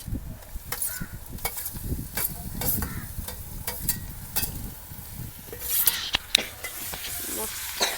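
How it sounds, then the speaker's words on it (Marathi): Dried dandi fish tossed with reddish-browned onions sautés in hot oil, a steady close sizzle broken by frequent scraping stirs and a few sharper spatula knocks. "तेलावर आपण हे एक मिनटं परतवून घेतलंय"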